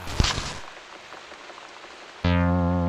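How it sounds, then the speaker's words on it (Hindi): Rain falls in a steady, dense hiss with a sharp patter at the start, then a sustained musical tone abruptly takes over near the end. "गोपाल ने कहा था इस बारिश को अपने सर पर आगे करके लेना चाहिए"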